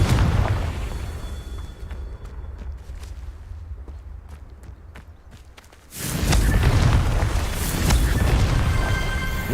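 Spell blasts in Hogwarts Legacy during a Merlin trial, with scattered thuds and cracks giving way to a loud, sustained explosive roar near the end.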